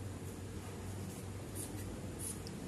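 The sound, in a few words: writing on a board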